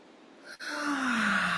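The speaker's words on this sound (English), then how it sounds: "maybe we do a couple fake yawns" A single drawn-out, breathy yawn rising then sliding down in pitch, close and fairly loud, with a sharp inhale at the start.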